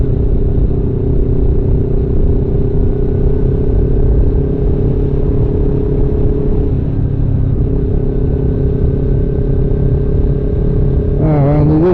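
Steady motorcycle engine drone while riding on a road on Île aux Coudres, a continuous loud rumble with a slight pitch change midway and a brief rev near the end.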